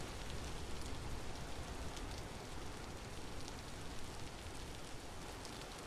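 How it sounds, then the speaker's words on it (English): Steady rain falls in the video game Vintage Story, a soft, even hiss of drops on the ground that continues without a break and stays quiet and unaccompanied. "I don't know if all this rain's gonna be bad."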